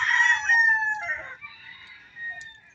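On a farm, a rooster gives a clear, close crow that trails off, followed by fainter clucks and calls from other chickens in a quiet setting.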